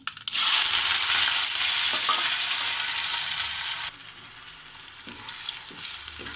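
Onion and curry leaves drop into hot oil with cumin and mustard seeds and burst into a loud, sharp sizzle that eases after a few seconds into a softer, steady frying hiss with light stirring.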